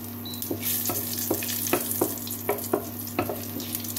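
Whole cumin, bay leaf and dried red chillies sizzle in hot oil in a kadai, a steady crackling fry broken by sharp, regularly spaced pops and spatters, close and fairly loud with no talking.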